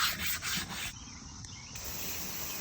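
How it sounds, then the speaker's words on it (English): Close, steady hand sanding of a stock K1500 metal wheel with 400-grit sandpaper in continuous circular strokes, a dry scratchy texture that dips briefly in the middle and then resumes, with no voices. "I would definitely recommend sanding them around in a circle, the shape of the wheel"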